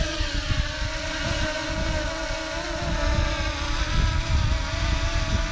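A DJI Mini SE quadcopter lifts off with a close, steady whirring buzz of small propeller motors, wavering slightly in pitch over constant wind rumble on the microphone.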